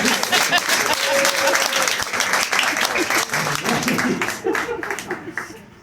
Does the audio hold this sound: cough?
no